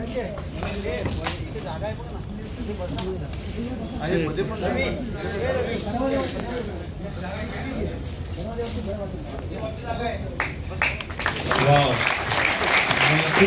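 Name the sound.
audience applause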